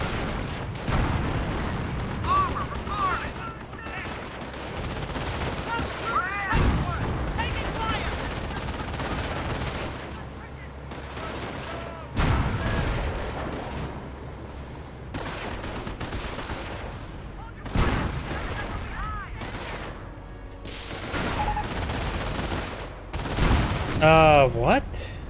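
An M42 anti-tank gun fires in the Company of Heroes video game amid a long battle, with repeated heavy booms over steady machine-gun bursts and rattling gunfire, while voices talk throughout.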